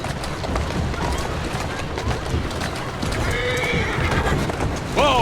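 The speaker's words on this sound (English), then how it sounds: "Who's a good horse? You are." A horse in Assassin's Creed Syndicate clip-clops steadily and then gives two sharp, close neighs near the end, over busy game background noise.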